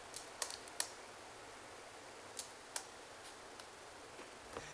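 Faint, sparse keystrokes on a computer keyboard, a handful of light clicks scattered irregularly over a quiet background with no talking.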